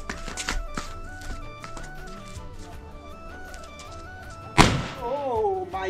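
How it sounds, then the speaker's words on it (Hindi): A Diwali firecracker bursts with a sudden loud bang after a stretch of muffled thumps and background noise, followed by a voice reacting. "तो एक पटाखा जलाते हैं"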